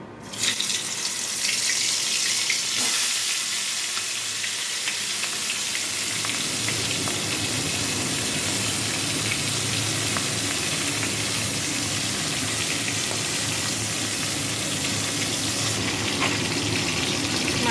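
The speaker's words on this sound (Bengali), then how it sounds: "তেল গরম হয়ে গেছে এবার আমি মাছের মুড়োগুলো ভেজে নেব" Loud, steady sizzling and hissing of fish heads frying in hot oil, rushing continuously throughout without pause.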